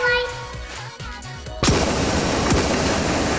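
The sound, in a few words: gunfire in a video game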